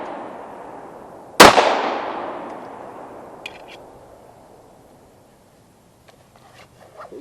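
A single loud handgun shot is fired outdoors by a shooter wearing gloves during a concealed-carry target drill. A long echoing decay fades over several seconds, followed by faint distant shots.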